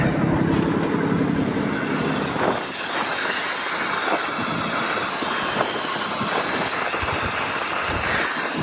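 A broken BMW 535D Touring diesel with lost power is revved, giving a loud rough rasping roar that dips briefly then continues with hissing, clattery noise throughout.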